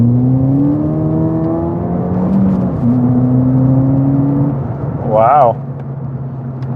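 A 2016 Ford Fiesta ST accelerating with a brief wheel spin: a steady, loud engine drone with rising and falling pitch tones heard from inside the cabin, and a short exclamation from an occupant near the end.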